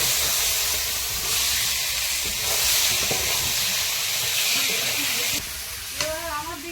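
Potatoes go into hot oil spiced with Kashmiri chili powder while cooking at an outdoor picnic, and a loud, continuous sizzling hiss fills the scene, with a brief voice rising near the end.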